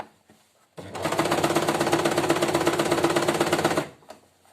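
A sewing machine runs steadily for about three seconds, stitching fabric for an extra-large scrunchie. Its rapid, even needle chatter is close and moderately loud, and it starts and stops abruptly with quiet moments on either side.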